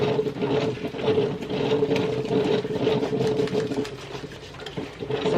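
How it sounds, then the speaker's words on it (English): Steady mechanical whirring and gurgling from a coffee maker brewing in the background of a kitchen where turkey wings are being seasoned, a continuous moderate hum with no talk over it. "And excuse the noise, I have some coffee brewing in the background."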